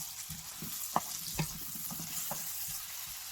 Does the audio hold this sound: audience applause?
no